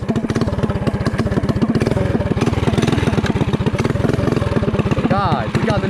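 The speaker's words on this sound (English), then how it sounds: "Guys, we got the new bike. It's idling a little rough." A new mini bike with a Predator engine idles roughly, with a fast, loud, lumpy putter that stays close throughout and a brief rev near the end.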